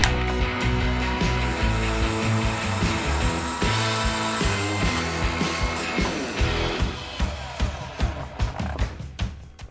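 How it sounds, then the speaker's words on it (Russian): A Wortex cordless miter saw with its motor whining in a steady, loud drone while it cuts through a 40 mm wooden board, then winding down and stopping with a series of clicks and knocks. "Ну а теперь давайте пильнем. Также 40-ую доску."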